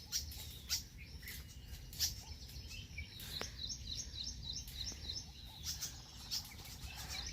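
Small birds near their nest give thin, high chirps and rapid twittering runs at a distance over a low outdoor hum while chasing a crow; a harsher call is not clearly distinguishable.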